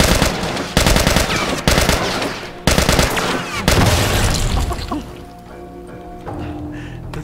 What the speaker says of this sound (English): Sound effect of him exploding.